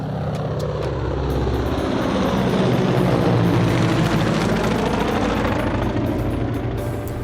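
A cartoon helicopter arrives over a jungle, its rotor chopping in a loud, steady rhythmic thrum that swells slightly toward the middle, with no talking.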